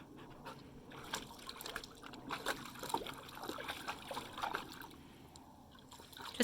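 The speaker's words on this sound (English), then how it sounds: "Just getting a drink of water?" A dog laps water from a bowl, wet slurping and splashing in quick irregular bursts, close and fairly soft, with panting breaths mixed in and no talking.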